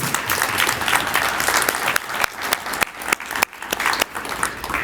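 An audience at a county state-of-the-community event gives its leaders a round of applause, a close, steady patter of many hands that thins into scattered individual claps toward the end.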